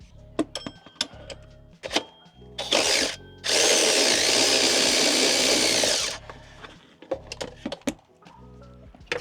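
A power tool zips out the 15mm tensioner bolts on a 1999–2007 Chevrolet Silverado, with two loud sustained bursts broken by short metallic clicks and clatter before and after, close up and without talk.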